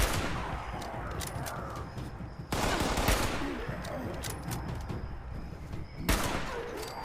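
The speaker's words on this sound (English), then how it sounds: "I'm getting shot at" Enemy gunfire in the video game Fallout 76: sharp bursts of shots cracking out over a constant background din, with a strong volley at about 2.5 seconds and another near the end.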